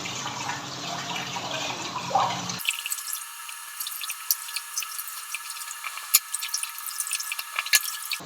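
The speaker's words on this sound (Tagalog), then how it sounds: "Maghuhugas tayo ngayon ng mango." Water runs steadily from a tap while mangoes are washed in a kitchen sink, a continuous close hiss with scattered drips and splashes, and no voices.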